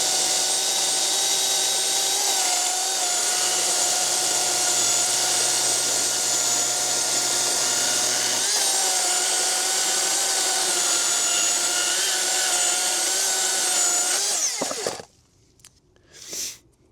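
A Milwaukee M18 FUEL 20-inch dual-battery chainsaw runs loud and steady for about fourteen seconds, its pitch dipping slightly under load while cutting wood, then cuts off abruptly, leaving faint handling noise.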